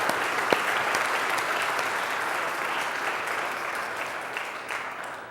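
An audience applauds steadily, with sustained, fairly faint clapping and no pauses.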